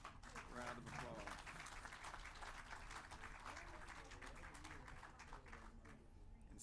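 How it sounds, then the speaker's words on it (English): A large audience claps in applause at a real estate announcement event with the Atlanta mayor, a steady, dense wash of clapping that fills the whole stretch and thins slightly toward the end. "Please give President Becker a round of applause"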